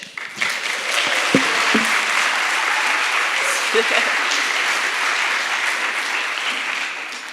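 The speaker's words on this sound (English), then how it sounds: "Let's give her a cheer." A conference audience applauds and cheers a speaker about to take the stage, with steady clapping that swells quickly after a brief start and holds strong, then tapers slightly toward the end.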